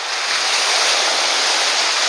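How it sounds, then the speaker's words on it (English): Giant waves splash on the Lake Erie shore in a continuous loud, close rush of surf, hissing and roaring without a break. "Hopefully I don't get splashed by the giant waves"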